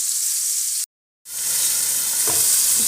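Steady, loud sizzling of red mullet frying on skewers in hot oil in a covered pan, broken by a brief silent cut, then the crackling sizzle resumes.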